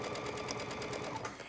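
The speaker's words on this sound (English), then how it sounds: "I'm going to choose a zigzag stitch, and I'm going to choose a width that is the smallest you can get" Sewing machine running a narrow zigzag stitch along a garment neckline, a rapid steady mechanical whir with evenly pulsing needle strokes, close and alone.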